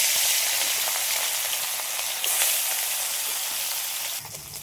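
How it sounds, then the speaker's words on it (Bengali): Rohu fish pieces rubbed with salt and turmeric fry in mustard oil in a kadai, giving a loud, steady close-up sizzle with a brief surge partway through and a dip near the end. "মাছটা এবার ভেজে দিচ্ছি"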